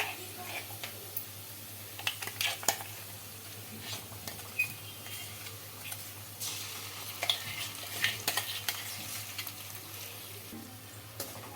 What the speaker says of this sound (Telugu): చూడండి పచ్చడి వేసుకున్నాక ఇలా ఒకసారి అంతా బాగా కలుపుకుందామండి